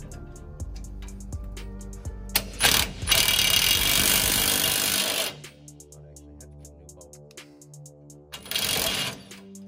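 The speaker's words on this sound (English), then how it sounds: "And this time we're gonna use the old Milwaukee." A Milwaukee power tool runs in a few loud bursts while driving helper spring bolts on an S10 truck, with softer mechanical clicks and rattles between them.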